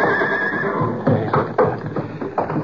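A horse whinnies in an old-time radio drama scene of a smoke-filled barn on fire, with a loud neigh over a steady background rush and a few knocking hoof-like thuds.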